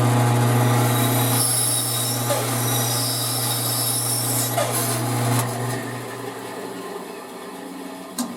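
A power saw cuts through a wood blank while making a duck call, a loud steady droning whine with a rough rasping edge that runs for several seconds, then winds down and fades.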